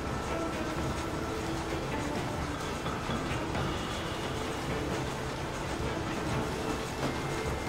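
A train rumbles along the tracks in Red Dead Redemption, a dense, steady roar with faint rail clatter that stays constant and close throughout.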